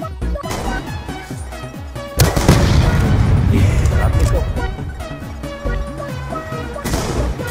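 A bomb goes off in an online multiplayer shooter match, a loud burst of blast noise and rumble that swells midway amid steady bursts of gunfire, with someone talking over it.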